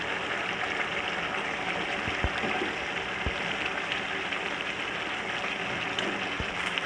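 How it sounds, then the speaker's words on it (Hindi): Potatoes frying in oil with tomato and onion in a pot, giving a steady, close, broadband sizzle with faint crackles and a few sharper pops, with no voices over it. "और आलूओं को भी तकरीबन मैं 5 मिनट भून लूँगी।"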